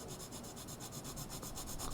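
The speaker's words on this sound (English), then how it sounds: "Then I'm going to take my colored pencils," Steady soft scratchy rubbing of colored pencil on paper, continuous and close, with no talking.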